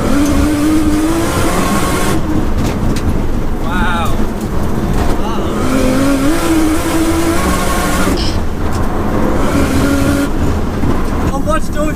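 Modified 700bhp Nissan R33 Skyline engine droning loudly from inside the car, with rising revs and steady road roar throughout while people talk.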